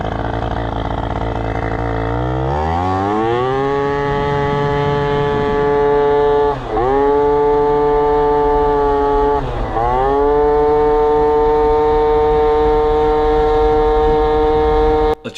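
Modified Honda Zook scooter's small two-stroke engine, loud and close, revving up from about two seconds with rising pitch, then holding a high buzzing whine with two brief dips as the throttle lifts and reopens.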